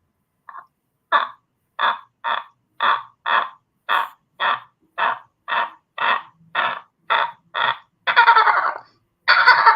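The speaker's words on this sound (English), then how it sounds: "A bird. Can y'all hear that? A bird started going." Outdoors, a bird gives a long series of evenly spaced harsh, cawing calls, about fifteen in a row, loud and clear against a quiet background, the last two longer and fuller.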